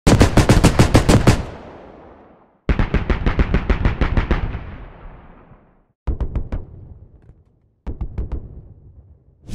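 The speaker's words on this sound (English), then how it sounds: "While the CTAS's 40mm cannon can shoot at a crazy pace" Four rapid bursts of heavy 40mm autocannon fire from a British vehicle in the video game Squad, each a fast string of booming shots with ringing tails, separated by short pauses.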